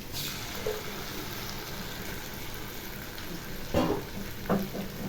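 Onions cooking in a pan with a paste of poppy seed, cashew and melon seed, a soft steady sizzle with a few scraping stirs of a spatula near the end, fairly quiet and without talk.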